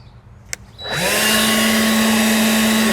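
A click, then a Worx 20V cordless leaf blower on low speed spins up and settles into a steady, whirring drone with a high motor whine, running close by.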